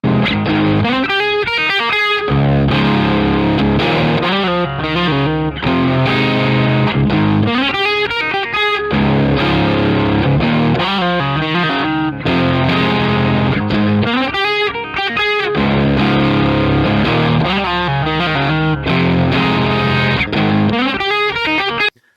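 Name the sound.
electric guitar riff through Marshall tube amp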